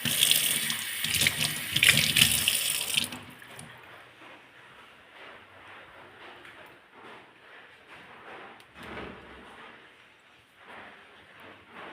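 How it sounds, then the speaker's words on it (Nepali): Water pours from a tap onto marigold flowers in a steady, loud rush for about three seconds, then gives way to quieter household background. "यो पानी चाहिँ फुलमा हालिदिन्छु होइन।"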